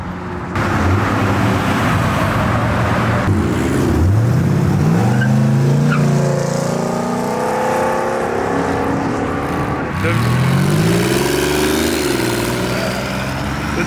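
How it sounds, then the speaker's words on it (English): Turbo V6 car accelerating hard as it leaves a car meet, a loud, close engine roar with rising revs that sweep upward twice, sustained throughout with crowd noise around it. "The Turbo V6."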